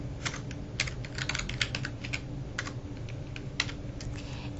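Typing on a computer keyboard, with irregular bursts of crisp close key clicks that pause briefly between words, heard alone without any talking.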